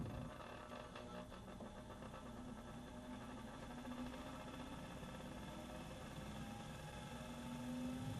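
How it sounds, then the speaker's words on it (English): Unbalanced laboratory centrifuge spinning with uneven test tube loading, a steady droning hum with a rough, throbbing vibration that holds constant at moderate volume throughout. "When the test tubes inside aren't evenly distributed, the centrifuge is unbalanced."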